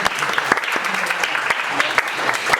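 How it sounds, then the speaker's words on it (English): A round of applause from an audience at a talk on the Bhagavad Gita, steady dense clapping throughout with a few sharper individual claps standing out. "Can we get a round of applause for"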